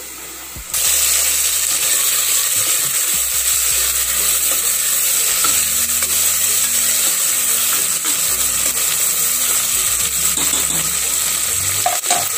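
Tomatoes go into golden fried onions in a pan for egg biryani, with a steady loud sizzle and the scrape of stirring running continuously throughout.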